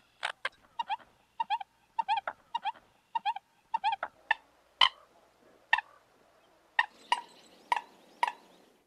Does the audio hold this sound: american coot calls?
yes